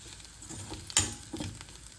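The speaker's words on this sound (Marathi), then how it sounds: "हे मसाला काळा मसाला आहे आमचा मीठ असं चांगलं हलवून घ्यायचं" Black masala and salt are stirred in a pan, a soft sizzle under light scraping strokes with one sharp clink of the spoon against the pan, quiet and close.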